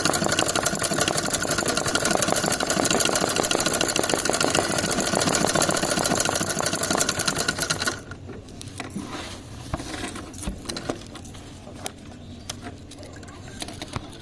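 Domestic sewing machine running a stitch for scalloping embroidery, a fast steady mechanical whir for about eight seconds, then stopping to leave faint handling ticks and rustles.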